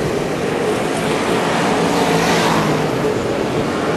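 Modified and superstock race cars circle a speedway track at close range, their engines forming a loud, steady, broad roar with no letup and no voices on top.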